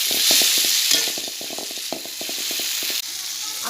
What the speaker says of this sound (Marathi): ही छान फ्राय झाल्यानंतर ना आपल्याला गवार टाकून घेणार आहोत आणि फ्राय करणार आहोत छान।